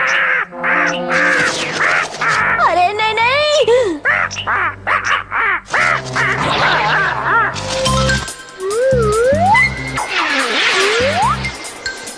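A cartoon crow caws repeatedly and loudly, harsh nasal calls mixed with quacking effects, over background music, while a character speaks in between.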